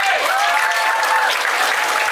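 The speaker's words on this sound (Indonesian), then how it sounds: "Tepuk tangan buat Pak Puji." A burst of loud, dense applause from a crowd, continuous clapping with a few whistles mixed in.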